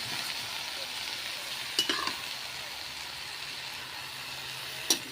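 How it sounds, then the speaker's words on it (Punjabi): Ridge gourd pieces tipped into onions in a frying pan, giving a soft, steady sizzle with a couple of brief utensil scrapes and knocks against the pan, faint and close. "ਹੁਣ ਇਹਦੇ ਵਿੱਚ ਆਰਾਮ ਤੋਰੀਆਂ ਪਾਵਾਂਗੇ"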